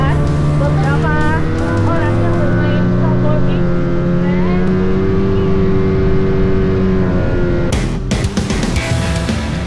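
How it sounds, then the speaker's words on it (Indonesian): A snowmobile engine runs on snow with a loud, close motor drone and shifting pitch as it revs and moves, then briefly drops away near the end. "Kendaraan bermotor ini bergerak menggunakan 2 peluncur di bagian depan dan 1 trek di belakang untuk menggantikan roda."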